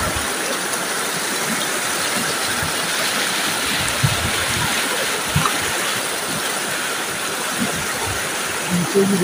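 Fast-flowing river water in the Chatral valley rushes with a loud, broad continuous roar, steady throughout with occasional splashes and small knocks close by.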